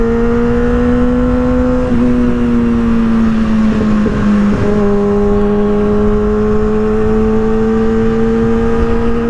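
Steady engine drone from a 2023 Kawasaki ZX6R KRT sport motorcycle cruising on the interstate, loud and continuous with a brief dip and shift in pitch midway, heard alone without talk.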